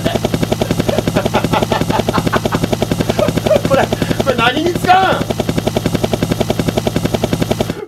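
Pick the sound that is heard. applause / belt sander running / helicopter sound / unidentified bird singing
helicopter sound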